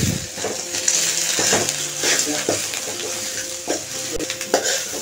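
Coriander, curry leaves and thuthuvalai sautéed in a pan, a close sizzle with repeated scraping and knocking spatula strokes in an uneven rhythm, with some voice sound mixed in.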